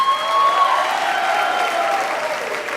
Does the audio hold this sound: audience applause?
yes